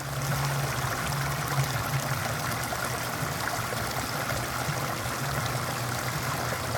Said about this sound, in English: The test is the outflow fast enough, or is this bucket going to overflow?